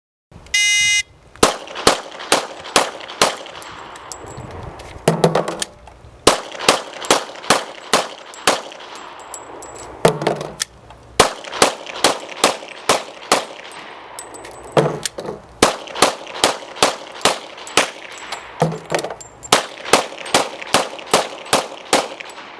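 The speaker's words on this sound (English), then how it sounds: "Now Jim's going to demonstrate shooting 5 6-round magazines" Five strings of rapid gunshots from six-round magazines fired on a range, each burst of sharp, loud cracks followed by a short pause for a magazine change, repeating across the whole stretch.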